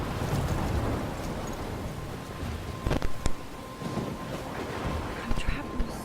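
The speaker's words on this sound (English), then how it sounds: "I'm trapped in a storm?" A storm in the video game Life Is Strange sends a steady wash of rain with a low rumble of thunder and a few sharp cracks, all fairly faint beneath a person talking.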